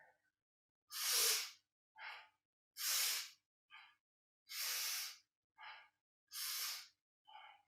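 Forceful rhythmic yoga breathing during a beginner kriya: four sharp, loud exhalations, each followed by a softer, shorter breath, alternating in a steady pattern with quiet gaps between.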